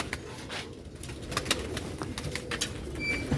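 Pigeons and pigeon chicks coo in low, throaty repeated calls nearby, with some faint chirps and a brief flutter of wings in the background.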